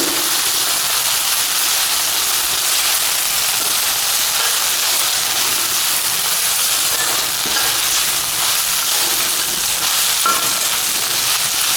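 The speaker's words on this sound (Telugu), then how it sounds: "ఈ అటుకు వేసిన తర్వాత ఈ పోపు అంతా వీటికి మంచిగా పట్టేటట్టు కలుపుకోండి" Flattened rice (poha) is stirred into a hot tempering in a pan, producing a loud, continuous frying sizzle and hiss with no pauses.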